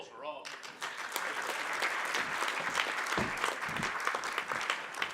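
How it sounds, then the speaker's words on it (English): Audience applause at the closing of the AusCERT 2016 conference, a brief voice at the start giving way to sustained, fairly distant clapping from a large crowd that continues evenly. "Round of applause for Rob."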